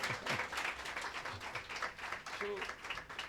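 A church congregation claps together in welcome, a steady wash of applause that runs the whole moment, with voices talking over it.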